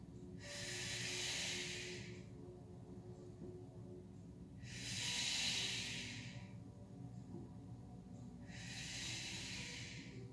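Slow, steady breaths during a yoga ab hold with legs suspended, three long airy exhales spaced about four seconds apart, close and soft with no talking.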